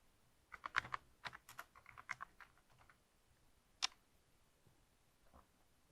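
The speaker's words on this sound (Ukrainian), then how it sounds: "В пошуку пишемо Google реклама." Keys tapped on a computer keyboard while entering a search term, a quick burst of close, crisp clicks followed by a pause and one last sharp keystroke, with no voice.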